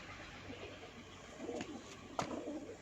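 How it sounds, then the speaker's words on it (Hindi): Motiyan pigeons on a rooftop coo softly in low, rolling phrases against a faint background, with a couple of brief sharper sounds partway through. "मोतियां वाला कबूतर है जनाब"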